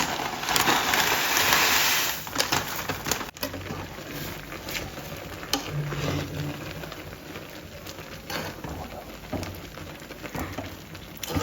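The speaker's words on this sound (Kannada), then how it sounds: "ಇವಾಗ ಇದೆಲ್ಲ ಹಾಕಿ ಒಂದು ಲೈಟ್ ಮಿಕ್ಸ್ ಮಾಡ್ತೀನಿ" Maggi noodles being stirred with masala in a pan, giving a soft scraping and pattering texture with scattered light clicks, close and fairly quiet, without talk.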